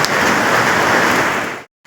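Heavy, steady rain pours down in a dense, even hiss during a monsoon downpour, loud and close, then cuts off abruptly near the end.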